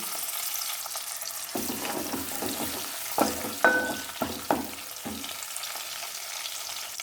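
Washed dried shrimp fry in hot oil for a curry: a steady close sizzle with several sharp crackles and pops, plus stirring scrapes, and no voices.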